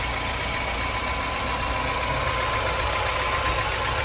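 A 2101 car's engine idles in a continuous, steady rumble with a broad hiss on top, no breaks or revving.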